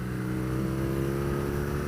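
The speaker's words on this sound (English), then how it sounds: "I think the stock exhaust on this thing just is amazing." A 2015 BMW R nineT motorcycle running on its stock exhaust gives a deep, throaty, steady engine rumble with a slight gurgle, close and loud throughout, with no talking.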